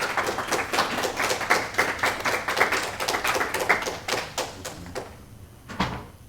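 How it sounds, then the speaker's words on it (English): Audience applause at a city council meeting: a burst of scattered hand claps from a room of people, fairly close and even for several seconds before thinning out and stopping. "We really shouldn't applaud."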